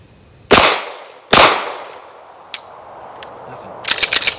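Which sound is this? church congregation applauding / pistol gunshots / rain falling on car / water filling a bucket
pistol gunshots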